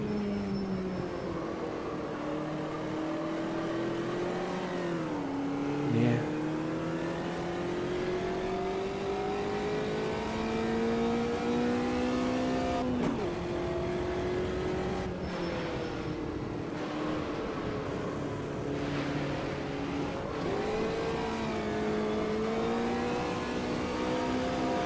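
A race car in the racing game Automobilista 2, on the Curvelo track, drifting with a loud continuous engine drone that rises and dips through shifts and slides, steady and close for the whole stretch, with no voices.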